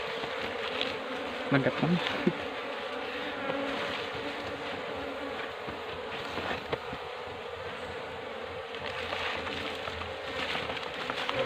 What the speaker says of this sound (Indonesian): tinggal lebahnya atau koloninya itu